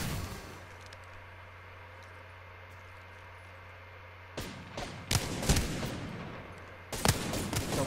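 Apex Legends gunfire: a quiet stretch with a low hum gives way to loud, close bursts of rapid shots, then a short pause and another heavy volley near the end.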